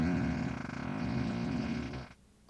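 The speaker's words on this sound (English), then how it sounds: "Choose from multiple different types of fart sounds such as Short Shorts Ripper, Falcon Heavy," A Tesla's fart mode plays a fart sound effect through the car, a low, buzzing, flapping rasp lasting about two seconds before it cuts off abruptly into quiet.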